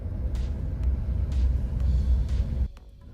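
A 2022 Ford Maverick hybrid pickup rolls to a full stop and turns, giving a steady low cabin rumble with a few faint clicks, until the drone drops away abruptly near the end.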